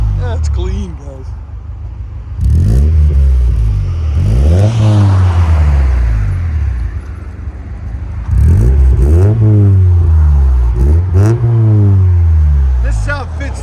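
A 1995 Acura Integra 5-speed with a Yonaka Motorsports exhaust revs in bursts: a low idle, then several sharp climbs and falls in engine pitch, loud and close, with brief gaps between pulls.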